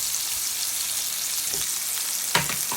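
Hilsa fish frying in oil, a steady close hiss of sizzling with a faint crackle and one brief clatter near the end, no voices.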